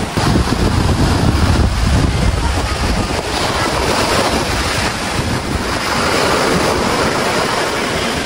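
Big, powerful ocean waves crash and churn at high tide on a surfing beach in the Davao region, a loud continuous roar of surf with strong wind buffeting the microphone.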